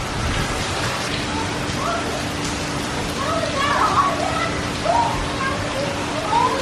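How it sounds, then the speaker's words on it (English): Heavy rain pours during a hurricane at North Myrtle Beach, a steady broadband hiss of falling water that holds throughout, with faint voices briefly heard beneath it. "when it started pouring"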